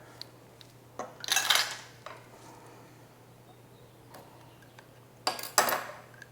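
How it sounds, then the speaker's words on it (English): A quarter measuring spoon falls in a home kitchen while a tropical dessert is being made. Two bright metallic clatters a few seconds apart stand out over a quiet background. "I dropped my 1/4 spoon"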